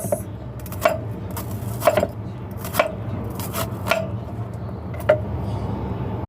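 A knife slices bitter melon on a board in about eight crisp, evenly spaced taps, close and clear over a low, steady background hum.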